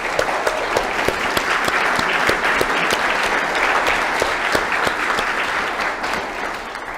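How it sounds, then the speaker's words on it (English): A crowd at a church forum applauds Sally Yates with sustained, dense clapping that holds steady for several seconds, loud and close, with no voices over it. "would you offer a warm round of applause for Sally Yates?"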